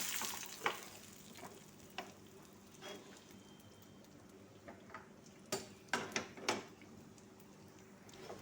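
Hot tempering for khichuri is poured into cooked rice, giving a soft, faint sizzle with scattered clinks and taps of utensils against the pot.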